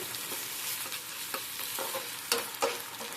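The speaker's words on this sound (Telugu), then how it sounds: "అల్లం పేస్ట్ వేసాం కదా, ఇది బాగా వాడాలి నూనెలో." Ginger paste with curry leaves frying in hot oil, a steady close sizzle with a few sharp spatters and stirring scrapes, no voices.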